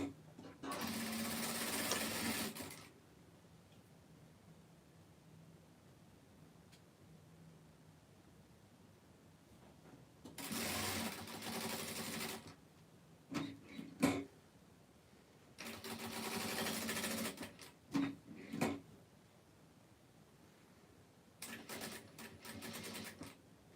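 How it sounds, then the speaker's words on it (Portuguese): A sewing machine stitches all the way around a children's aviator cap in four close, loud bursts of rapid whirring, separated by quiet pauses. "nós vamos fazer a costura da volta toda, deixando aqui 1 ou 2 dedos de abertura para poder desvirar depois"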